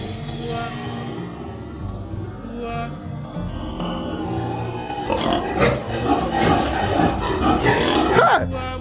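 Pigs on a pig farm squeal and grunt loudly up close, with a sharp rising cry near the end, while people talk nearby.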